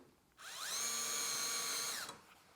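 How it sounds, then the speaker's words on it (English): A power drill bores a screw hole for a cabinet drawer slide in one continuous whine lasting about a second and a half, pitch rising as it spins up and dropping as it stops, close and loud. "Got my first hole drilled."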